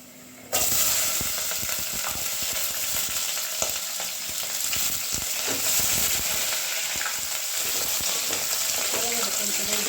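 Sliced onions sizzle steadily in hot oil in a pan for chicken pulao, a continuous close hiss that starts abruptly after a brief quiet moment and carries on with small crackles throughout.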